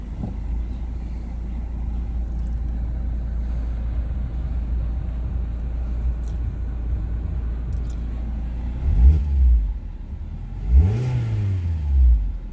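A 2019 Mazda MX-5 Miata RF 30th Anniversary idles with a close, steady low rumble, then rises in two short revs near the end, each swelling and falling back to idle.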